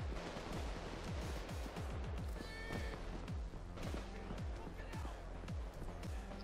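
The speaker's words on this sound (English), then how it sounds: "Stop shooting me, stop shooting me, stop shooting me." Gunfire from the video game Payday 2 rattles in quick bursts of sharp shots, repeating close and loud across the whole stretch.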